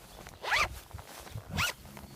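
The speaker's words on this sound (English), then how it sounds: "It has full-length pit zips that go all the way down so that they can dump heat" Pit zip zipper on an Arc'teryx Beta AR hardshell jacket, pulled in two quick, close, rasping strokes about a second apart, with no talking.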